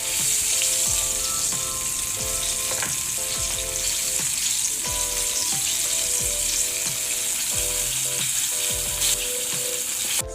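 Cornstarch-coated saltfish deep fries in hot oil, giving a continuous loud bubbling sizzle with occasional louder spatters and no voices over it.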